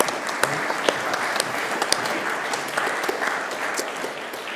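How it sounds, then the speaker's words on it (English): A live summit audience applauds the panelists of a roundtable session, steady broadband clapping from many hands filling the room at moderate volume with a few sharper claps standing out. "Can we get a round of applause for the panelists?"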